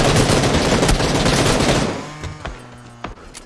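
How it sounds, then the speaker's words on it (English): Rapid gunfire in the battle royale game PUBG, a dense, loud burst of overlapping shots that fades after a couple of seconds, leaving a few sparse single cracks and distant pops. "They're getting shot in the back."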